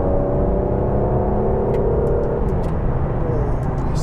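An Aston Martin DBS or Ferrari 812 Superfast accelerates hard in Grand Touring mode, a rising engine drone heard from inside the cabin with faint ticking clicks scattered over it.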